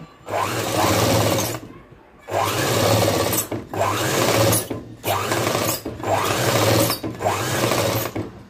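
An electric sewing machine stitches the lining of a boat-neck long frock in bursts of rapid whirring needle runs, separated by short pauses, close and steady, with no talk over it.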